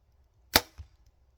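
One arrow is loosed from an Athens Axxis 35 compound bow with roughly 420-grain arrows: a single sharp, close thwack followed a moment later by a fainter second knock, then quiet.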